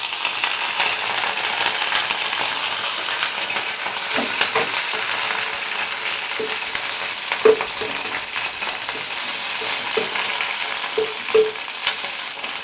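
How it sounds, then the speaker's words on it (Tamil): Green chillies and curry leaves frying in hot oil, producing a loud, dense, continuous sizzle with occasional soft pops and spatula scrapes. "அதுல ஆயில் சூடான உடனே நம்ம இந்த கிரீன் சில்லியும் கரி லீஃபும் ஆட் பண்ணிக்கிறேன்"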